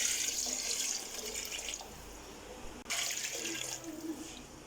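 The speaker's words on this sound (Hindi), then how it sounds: "1 किलो चावल के हिसाब से इसमें 2 लीटर पानी डाल दिया" Water runs steadily from a tap into a pot of soaked rice, 2 liters for 1 kg, for Afghani pulao, a soft continuous splashing pour that briefly pauses near the end before resuming.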